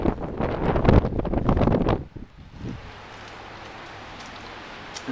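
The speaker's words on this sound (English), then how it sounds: "Real windy." Strong wind on a snowy day buffets the microphone in loud gusts for a couple of seconds, then eases to a steady low rush.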